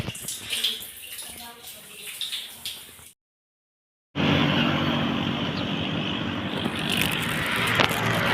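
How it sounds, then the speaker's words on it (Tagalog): Water from a shower pours in a loud, steady hiss after a brief silence, preceded by softer background noise and faint voices. "So, shower po."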